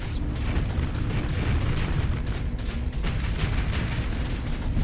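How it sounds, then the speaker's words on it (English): An orbital station blows apart in the space combat game Starsector, a sustained, dense roar of booming blasts and rumbling bursts that stays loud and steady throughout. "Alright, orbital station just went poof."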